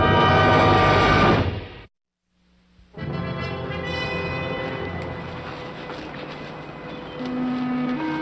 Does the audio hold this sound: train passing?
yes